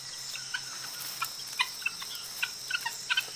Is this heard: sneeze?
no